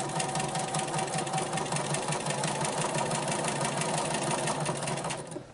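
A sit-down sewing machine stitches steadily during free-motion quilting, a close, continuous mechanical whir and rapid needle clatter that runs unbroken for several seconds before easing off at the end.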